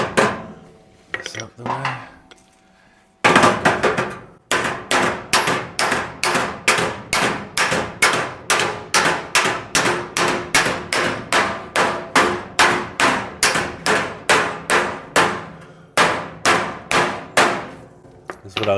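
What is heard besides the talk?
hammer and dolly working 1937 Zephyr front fender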